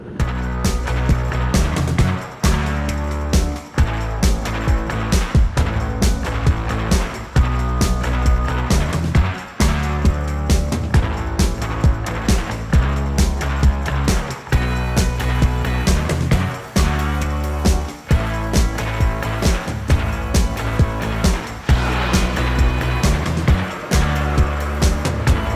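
A Harley-Davidson Pan America adventure motorcycle climbs off-road with its rear tire spinning, the engine roaring loud and close through repeated throttle surges and brief cuts, no speech.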